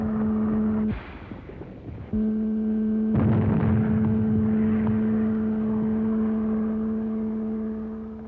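A WWII submarine in the Pacific war firing torpedoes: heavy, loud mechanical bursts and whooshing launches over a constant low engine hum, with a brief drop in the drone between firings.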